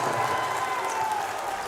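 A high school boys varsity basketball crowd in a gym applauds after a dunk, steady clapping and murmur held for a couple of seconds, with an arena announcer's voice faintly mixed in.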